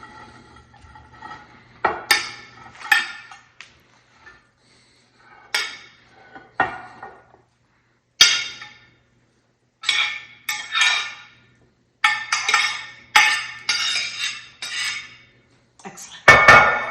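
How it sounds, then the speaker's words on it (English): Broccoli being moved from one pan into a bigger pan, with intermittent clanks and clinks of metal cookware and utensils in separate bursts, close and fairly loud, with brief pauses of near silence between and no talking. "I'm going to just take a big pan and transfer them all."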